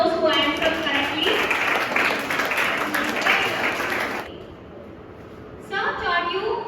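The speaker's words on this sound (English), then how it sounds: "you can clap for those who answered correctly." An audience in a personality development workshop claps together for about four seconds in a loud, steady burst. The clapping then stops and talking carries on.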